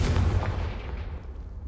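A fire-spell blast in a Hogwarts video game, one loud booming explosion that starts immediately and rumbles away over a second and a half.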